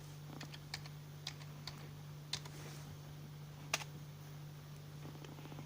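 Typing on a computer keyboard: a quiet run of irregular key clicks with a few louder taps, over a steady electrical hum and no speech.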